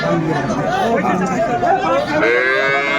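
Dairy cows and calves of improved breed low and moo amid a busy cattle market at Aftabganj haat in Dinajpur, with steady crowd chatter and nearby voices filling the space throughout.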